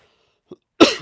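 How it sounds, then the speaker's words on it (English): A single brief throat catch followed by one sharp, close cough that fades quickly, alone in near silence. "Sorry about the coughing."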